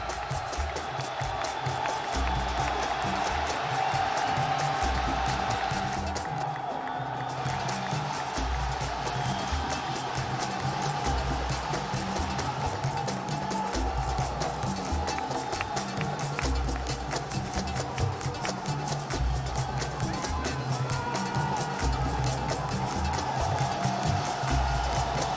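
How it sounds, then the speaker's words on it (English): An arena crowd at the Lima Major esports playoffs roars for Evil Geniuses, a loud, sustained wall of cheering, clapping and rhythmic chanting that keeps up without a break. "It's time to hear the crowd for Evil Geniuses."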